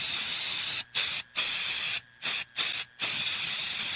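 Bygone Shield Defense insecticide spray hisses out in loud bursts from an aerosol can, one long spray broken by several short gaps.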